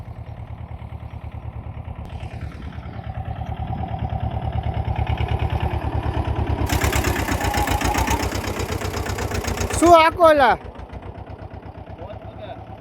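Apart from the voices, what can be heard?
tractor engine running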